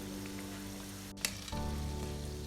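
Homemade doughnuts frying in oil over medium heat give a steady, dense sizzle throughout, with a brief clatter partway and the bubbling growing slightly louder afterward.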